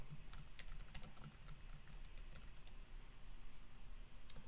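Fingers typing on a computer keyboard, quick irregular clicky keystrokes close by in bursts, fairly quiet, with no voice.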